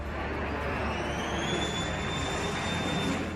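Engines of a Northrop YB-49 Flying Wing aircraft in vintage footage, a steady loud roar with a rising whine, continuous and unbroken, no voices.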